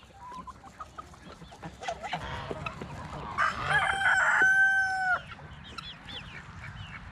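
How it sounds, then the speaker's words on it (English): Chickens cluck and squawk close by, with a rooster's drawn-out crow rising in the middle; scattered rustling underneath. "Here you go, chickens."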